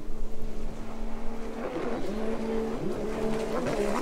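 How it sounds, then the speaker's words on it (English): Loud Pro Runabout personal watercraft racing engine whining at high revs at a world championship final, pitch sliding up and down as it passes, with a constant roar underneath. "There's a look at the second place boat of Eric Francis."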